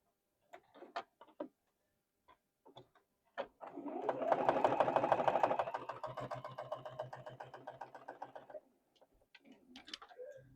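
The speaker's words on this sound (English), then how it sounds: "Now we're going to sew these two." A sewing machine stitches two pieces of fabric together in one steady, fairly close run of about five seconds, framed by scattered clicks and handling noises before and after.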